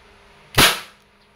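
A single sharp crack from a Crosman Phantom P10 airgun pistol firing a 4.5mm steel BB, loud and alone, with a quick decay in a quiet setting.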